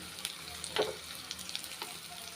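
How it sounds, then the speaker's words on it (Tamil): Chopped onions with green chillies sauté lightly in a hot pan, giving a steady soft sizzle broken by a few scraping stirs of the spoon, with no one talking. "வெங்காயம் வந்து லைட்டாக வதங்கிருச்சுங்க"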